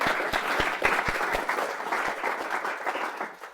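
Audience applause at a panel discussion on spatial justice in Oxfordshire: a crowd claps steadily with some distinct nearby hand claps, holding at moderate loudness before tapering slightly at the end.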